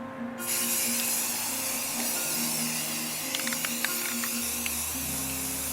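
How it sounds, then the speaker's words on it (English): A continuous light hiss of spray paint from a can, steady for several seconds with faint small clicks and a low hum beneath. "Now we're going to spray it very lightly."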